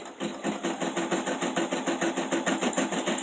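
An embroidery machine tacks down stitches around a letter E on an in-the-hoop Easter table runner, a steady, fast, rhythmic mechanical chatter with a continuous hum, close and even throughout.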